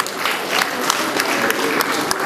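Applause from a gathered audience honouring Chief Razak Okoya at a Lagos reception, a dense steady patter of many hands clapping throughout, fairly close and loud with crowd murmur beneath.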